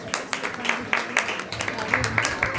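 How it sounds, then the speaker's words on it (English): An audience applauds at the ISKCON Niagara Chariots Fest sponsor appreciation, with a moderate crowd's clapping forming a lively, uneven patter of individual claps that continues throughout. "A big round of applause."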